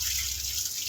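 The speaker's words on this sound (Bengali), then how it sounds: "ওখানেই পা ধুচ্ছিস, ওখানেই জল খাচ্ছিস।" Water runs steadily and close by from a tap or outdoor source as someone washes their feet at a wedding gathering, a continuous splashing hiss with no voices over it.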